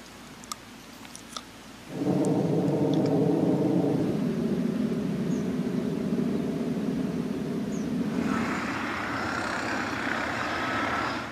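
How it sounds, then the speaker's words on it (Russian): An airplane passes high overhead at about 1.2 km elevation, a broad low rumble that swells in after a couple of seconds and holds steady, gaining a brighter rushing hiss toward the end. "Тут сейчас самолет летел прямо надо мной"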